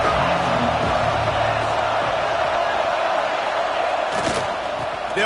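A football stadium crowd, EMG against Michigan, roars as one loud, dense wash across the whole clip, with a brief sharper burst near the end.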